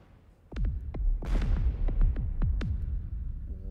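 Missile interceptors fire at a Fortress Fist in a video game, sounding as a series of sharp launch bursts and whooshing blasts, about ten in irregular quick succession over a low rumbling hum, loud and close.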